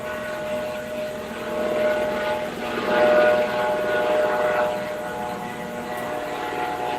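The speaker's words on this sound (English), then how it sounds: "When I hear the helicopter over" A steady low helicopter engine drone swells and fades slightly over several seconds as it passes overhead, with no voices.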